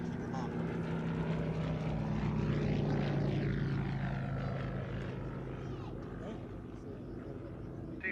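A small vintage fighter-class propeller aeroplane flies past overhead, its engine a loud sustained drone that rises and falls in pitch as it passes by, with a voice speaking over it.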